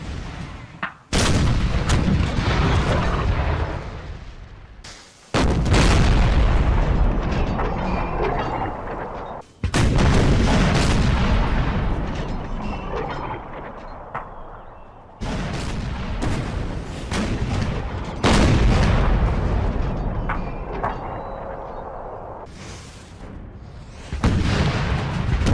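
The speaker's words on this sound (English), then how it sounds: "over 150 Federal guns arrayed on Stafford Heights bombarded Fredericksburg" Artillery bombardment in a Total War battle recreating the 1862 Battle of Fredericksburg, with Federal guns on Stafford Heights shelling the town: loud, heavy cannon blasts in repeated bursts with rumbling echoes between them, no talk.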